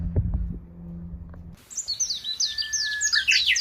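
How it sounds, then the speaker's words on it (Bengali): Birds chirp and twitter outdoors, with a steady run of bright, overlapping calls starting partway through after a short stretch of low, muffled handling noise. No one speaks. "পাখির আওয়াজ শোনা যাচ্ছে না?"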